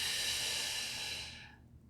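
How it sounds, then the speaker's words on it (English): A deep, breathy inhale drawn in during a guided foam roller and ball psoas release exercise, one long steady airy hiss up close that fades out near the end, with no talking. "Inhale. Contract away."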